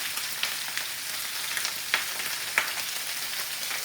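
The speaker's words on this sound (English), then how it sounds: "You can probably hear it there, it's quite loud. Frying away." Constant crackling sizzle of chicken and onion frying in a pan, with occasional sharper pops and scrapes standing out from the hiss.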